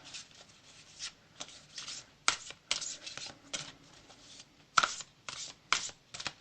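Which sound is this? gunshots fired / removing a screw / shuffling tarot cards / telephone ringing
shuffling tarot cards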